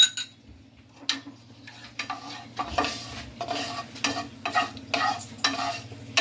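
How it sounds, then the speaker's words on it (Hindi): Cumin seeds sizzling in piping-hot oil as a spoon stirs them, a soft steady fry broken by repeated scraping strokes against the pan and occasional light clinks, close and with no talking. "Now we are going to add some cumin seeds to it."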